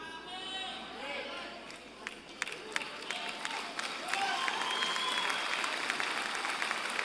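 Church congregation applauding during an energetic sermon, a dense wash of clapping with scattered sharper claps and crowd noise, voices mixed underneath throughout.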